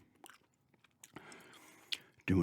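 Gum being chewed close to the mic in a quiet room, soft wet mouth clicks and chomps scattered unevenly, ending in a louder burst; a voice speaks briefly.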